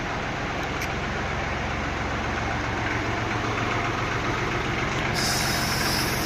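Kubota GL29 mini tractor with a front loader, engine idling at a steady low throb with constant close mechanical hum and no talk, unchanging for several seconds.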